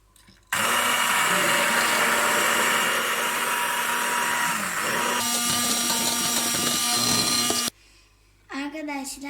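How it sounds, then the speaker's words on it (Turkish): A steady, loud whirring hum of an electric mixer whipping a mixture until white and foamy for a cake runs continuously for several seconds, then cuts off, followed by a brief voice. "biraz bulut gibi olan kadar beyazlaşana kadar mikserle çırpacağız"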